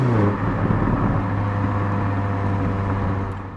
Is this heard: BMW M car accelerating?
yes